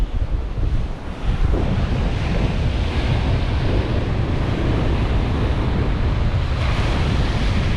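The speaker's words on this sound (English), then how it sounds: "Isn't wind great?" Strong wind and breaking surf roar steadily on the Lincolnshire coast, a loud, continuous wash of waves with gusts buffeting the microphone. No one speaks.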